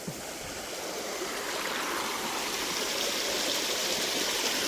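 Steady rushing of a clear freshwater stream, broad and continuous, close by with no voices.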